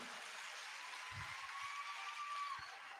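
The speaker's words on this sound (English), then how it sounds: "can we all give them a very big applause?" An audience at an induction ceremony for newly qualified medical and dental practitioners applauds: dense, steady, somewhat distant clapping filling the hall, with a few low thumps beneath it.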